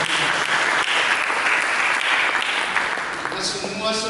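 A church congregation claps together in sustained, dense applause, loud and close, fading slightly near the end as a voice begins to speak.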